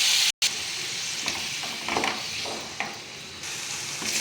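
Steady hissing sizzle of eggplant frying in oil in a hot pan, close and continuous, with faint stirring scrapes.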